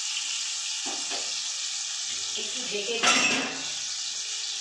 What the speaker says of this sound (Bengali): আলুটা কয়েক মিনিট ভাজা করতে দিই